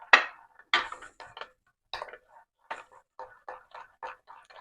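A spoon stirring a fenugreek powder and curd hair pack in a small bowl, giving a series of light scraping clicks and taps in an irregular rhythm, close and fairly quiet.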